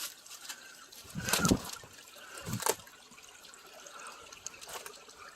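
Small spring water trickling gurgles quietly near a creek, with two brief louder splashy bursts near the start, then a soft continuous dribble.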